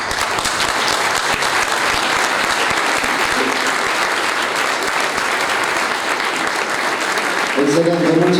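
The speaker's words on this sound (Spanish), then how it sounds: "Fuerte el aplauso para el doctor Luis Wall" An audience applauds after a scientific talk on living soil, steady dense clapping filling the room throughout, with a voice rising over it near the end.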